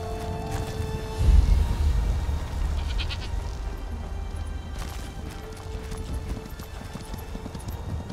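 Horse hooves clip-clop on the ground in the video game Skyrim, a steady trotting rhythm under faint game ambience and music, fairly close and moderate in level.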